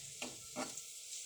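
Onions and chilli fry in a pan with a soft, steady sizzle, and a spoon stirs them in two brief scrapes, all faint and close.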